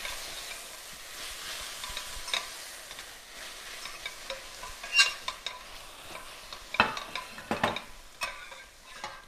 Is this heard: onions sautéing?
yes